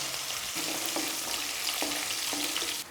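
Cashews sizzling steadily in hot oil in a pan with cumin and green chili, a continuous close frying hiss broken by a few soft stirring knocks, with no talking.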